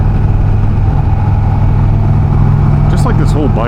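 A 2019 Indian Chieftain Limited motorcycle hums steadily while riding, a loud continuous engine drone mixed with wind rush, with voices breaking in toward the end.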